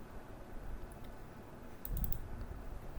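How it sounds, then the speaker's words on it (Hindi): A computer mouse is double-clicked on a spreadsheet fill handle, giving a quick pair of faint, crisp clicks late in an otherwise quiet desk scene. "अब मैं अपने फिल हैंडल के ऊपर जाऊंगा और डबल क्लिक करूंगा।"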